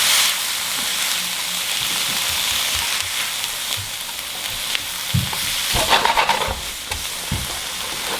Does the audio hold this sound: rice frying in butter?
yes